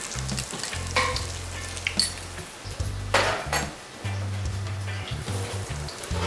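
Finely chopped ginger, garlic and onion sautéed in a pan for Kerala chicken curry, crackling sizzle with repeated stirring scrapes and clanks of utensils against the pot, close and busy.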